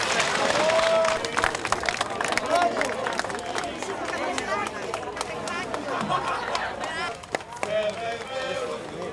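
A Greek community crowd at a Blessing of the Cross event in Batemans Bay cheers and shouts as a 17-year-old holds up the retrieved cross, with loud excited voices, scattered clapping and chatter throughout.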